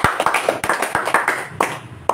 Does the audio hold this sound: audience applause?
yes